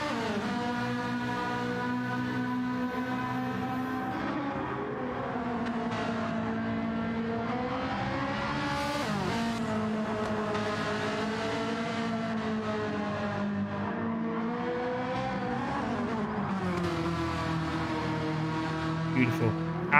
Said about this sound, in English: Have a listen to this Ferrari.